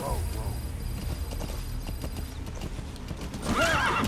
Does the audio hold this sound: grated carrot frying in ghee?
no